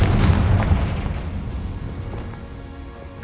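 A Confringo spell detonates in a loud blast, a heavy low rumbling boom that starts strong and slowly decays over a few seconds, with a fresh burst at the very end; no voices.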